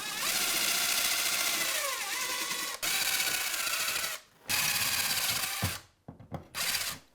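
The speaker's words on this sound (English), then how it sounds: "I'm going to drill those holes before I put these anchors in" A power drill whirs steadily and loudly, boring holes for wall anchors in long sustained runs with brief pauses and a few short bursts near the end.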